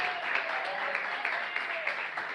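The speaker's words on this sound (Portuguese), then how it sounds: "A salva de palmas para ele, que ele merece." A church congregation applauds during a sermon, an even, continuous patter of many hands sustained for a couple of seconds at moderate loudness.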